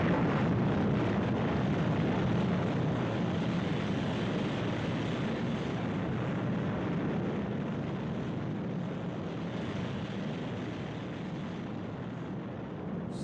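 The Sun Probe rocket engine in Thunderbirds ignites with a sustained, loud, broad roaring rush that holds steady throughout and eases only slightly toward the end.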